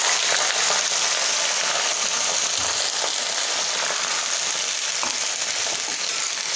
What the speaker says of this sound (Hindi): तो अब तेल गर्म हो गया तो अब हम डाल देंगे इसमें भिंडी